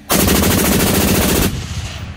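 A continuous, very loud burst of rapid gunfire from a rifle fitted with a Rare Breed FRT trigger, shots blurring into a fast rattle for over a second before ringing off into outdoor range echo.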